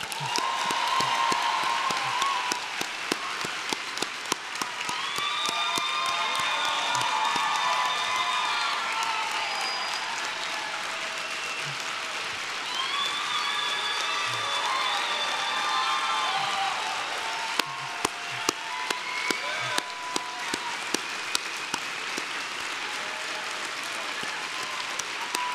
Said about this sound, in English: Can we have another round of applause for our youth presentation?